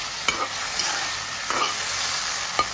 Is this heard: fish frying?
yes